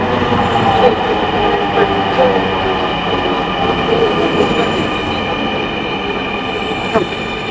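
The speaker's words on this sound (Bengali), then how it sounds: "ট্রেন চলে এসেছে" A metro train rumbles into a station with steady wheel noise, metallic squeals and faint clacks, loud and close, slowly easing off toward the end.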